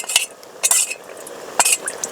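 Rice flour and roasted cumin powder stirred together for pitli in a bowl, with three or four short, close scraping swishes of a spoon separated by brief pauses.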